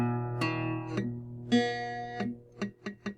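Guitar chord picked string by string with one string muted by a touching finger, several ringing notes followed by short dull thuds that die quickly, close and alone without talking.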